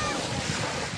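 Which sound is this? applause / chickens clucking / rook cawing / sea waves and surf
sea waves and surf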